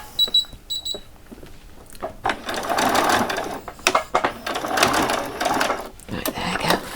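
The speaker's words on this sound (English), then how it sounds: "And a back stitch just to finish it off." A sewing machine runs a back stitch to finish a seam on a Christmas party dress, close rapid mechanical chattering in short uneven bursts after a few faint clicks and beeps at the start.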